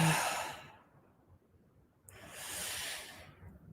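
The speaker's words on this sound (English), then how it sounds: "We will do 10 connected breaths." Two deep connected breaths during a guided breathing exercise, each a broad airy rush, the first fading out after a second and the second swelling for about a second and a half, close and alone without talk.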